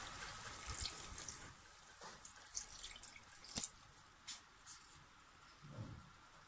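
Water pours into an egg korma masala in a cooking pot, a soft trickling and splashing with scattered drips, faint and close, with no talking.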